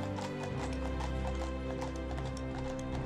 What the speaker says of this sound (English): rhythm of the hoofbeats is mesmerizing